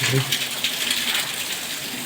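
Rain hisses and patters steadily for a brief moment, fairly close, with no distinct voices.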